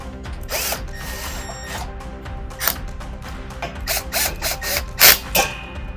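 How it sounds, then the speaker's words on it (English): Self-drilling screws driven into a metal handrail, heard as short bursts of power drill whine and ratcheting clicks, close and intermittent, with a sharp louder burst near the end. "using a self-drill screws provided. I'm gonna come down here, drill it in"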